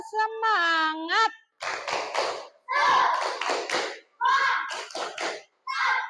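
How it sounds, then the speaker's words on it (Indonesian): A class of Indonesian schoolchildren performs the 'tepuk semangat' routine, chanting in unison between bursts of sharp rhythmic claps. The voices and handclaps come in short, regular phrases separated by brief pauses. "Sekarang tepuk semangat."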